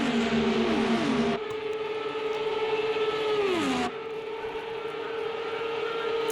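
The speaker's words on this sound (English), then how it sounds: "The sounds of the cars finally revving high speeds" IndyCar race cars screaming at high revs in a racing video game, sustained high-pitched engine whines that drop in pitch twice as cars pass or shift, loud and continuous with no talk.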